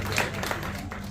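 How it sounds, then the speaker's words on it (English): A crowd applauding after a hypnosis show at a senior all-night party, a short, dense wash of clapping with a loud, roomy tone. "Give these guys a nice round of applause."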